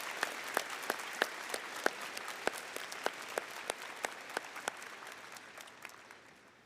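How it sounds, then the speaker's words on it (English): Applause from the crowd at a high school graduation ceremony, fairly distant and soft, with individual sharp claps standing out in an irregular rhythm before the clapping thins and fades away. "Let's give them a big round of applause and thank you for all that you do."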